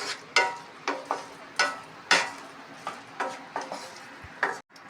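Fried cauliflower being tossed into Manchurian sauce in a pan, a spoon scraping and knocking against the metal in about ten evenly spaced, fairly close clinks, with no talking.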